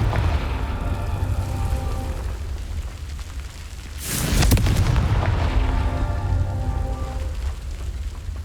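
A Confringo fire spell blasts in the Hogwarts Legacy video game, a loud roaring boom bursting around the midpoint over a steady rain-like ambient rumble, then fading back into the background wash.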